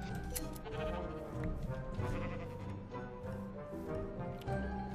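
Repeated sheep bleats from a video game come in quick succession, fairly loud over a busy, dense background of game sound.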